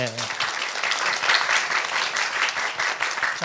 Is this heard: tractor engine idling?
no